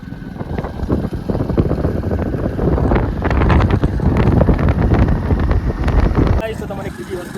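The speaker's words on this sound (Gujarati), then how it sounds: "અને હું મેહુલ બાઇક લઈને નીકળી ગયા છીએ" A new motorcycle ridden along an open road in Banaskantha, with heavy wind buffeting the microphone over the engine rumble, loud and continuous, then easing near the end.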